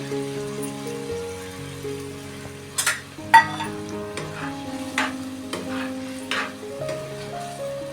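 Cashew pieces fry in a spicy egg masala with a constant sizzle and a few stirring scrapes and taps, set against steady background music.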